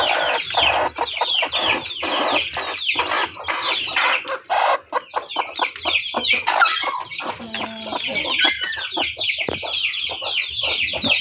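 A mother hen and her chicks cluck on a countryside farm: busy overlapping clucks and high peeping chirps, close and fairly loud, continuing throughout.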